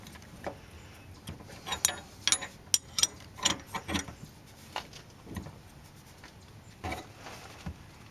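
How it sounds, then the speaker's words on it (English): A ratchet with a special socket snugs down the fuel tank strainer on a Mercedes diesel, giving quiet, irregular clicking bursts of pawl ticks in short runs, close up and with no talking. "we're going to snug it up with our special socket"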